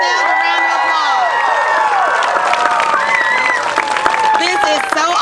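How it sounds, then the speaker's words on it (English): Outdoor crowd at a park celebration clapping and cheering loudly, with many overlapping whoops and shouts rising over steady applause throughout. "Give yourselves a round of applause."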